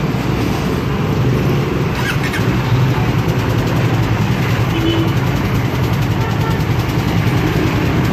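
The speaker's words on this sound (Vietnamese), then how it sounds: "giờ bắt đầu nổ máy để thử xem là cái găng cái gì của nó có nhuyễn không nhá" A Honda Raider Fi150 motorcycle, fitted with a new stock air filter, idles loud and close with a constant, even mechanical drone throughout.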